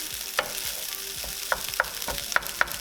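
Fried rice with frozen vegetables stirred in a hot pan: a steady sizzle of frying with sharp scraping clicks from a utensil against the pan every fraction of a second, close and clear, no talking.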